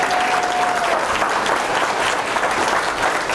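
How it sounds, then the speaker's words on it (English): A seminar audience at a cold-calling and sales motivation talk applauds in a steady, dense wash of clapping that holds at an even level throughout, with a brief whistle-like tone near the start. "a round of applause? How many people would agree?"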